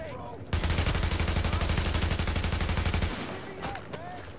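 Automatic rifle fire rattles in a long, steady burst of rapid shots lasting a few seconds during a Dark Zone firefight in The Division, then stops, leaving a few scattered faint sounds.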